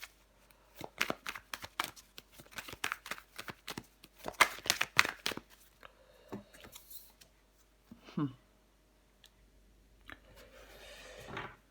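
Tarot cards being drawn, shuffled and laid down, with a run of quick close papery flicks and slaps followed by softer sliding card sounds, and a voice speaking briefly in between.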